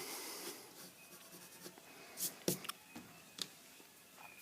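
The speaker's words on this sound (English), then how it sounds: "Now to intensify that light through here, some colour pencil" A colour pencil scratching and scribbling across paper, adding light to a mixed-media piece, with close, soft strokes and a few sharper ticks of the tip, heard without talk.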